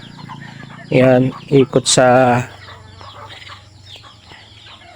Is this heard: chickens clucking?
yes